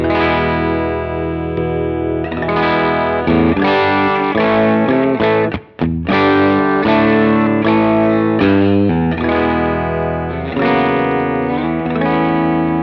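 Electric guitar through a Laney IRT Pulse Ironheart tube preamp, playing chords and melodic lines with a warm, driven, slightly distorted tone and chorus-like shimmer, loud and continuous with one brief gap.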